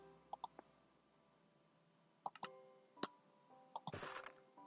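Sharp computer mouse clicks during Minecraft gameplay, arriving in small clusters of two or three quick clicks with gaps between, over a faint steady hum and a brief burst of noise near the end.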